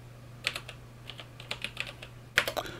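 Keystrokes on a computer keyboard entering a Linux terminal install command, a quick irregular run of close clicks with a louder cluster near the end, over a steady low electrical hum.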